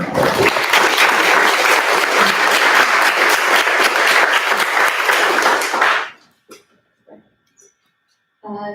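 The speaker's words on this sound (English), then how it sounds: "let's give a round of applause." An audience at a science panel event breaks into loud, dense applause that holds steady, then stops abruptly, leaving a near-silent room with a few scattered claps and small noises.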